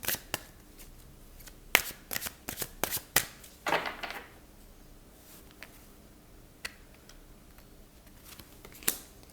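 Tarot cards being shuffled by hand for a reading: a burst of crisp riffling and snapping flicks early on, then sparse single card taps and slides, close and fairly loud, with no talking.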